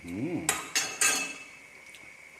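Tom yum instant noodle soup is stirred in a pot: after a short voiced sound, three quick metallic clanks of utensil on pot ring out close, then fade into quiet.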